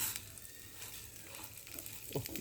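Coriander seeds roast in a pan, giving a faint, steady sizzle with soft stirring scrapes and one louder scrape near the end, close and without talk.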